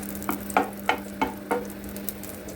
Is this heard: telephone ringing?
no